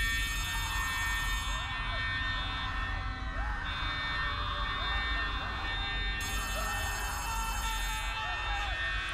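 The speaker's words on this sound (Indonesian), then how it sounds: "Alarm berbunyi" An alarm rings in the Poppy Playtime Chapter 3 game, a persistent tonal ringing that holds steady over several seconds beneath dense background noise and a voice talking.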